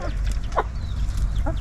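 A flock of chickens scratching at the ground in a garden yard, giving a few short clucks and soft calls over a constant low background rumble.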